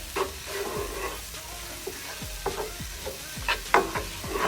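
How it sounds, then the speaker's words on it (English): Ground crayfish being added and stirred into an okra soup in a pot, with a spoon scraping and stirring in repeated short strokes over a soft, steady simmer. "Just gonna add this crayfish to it."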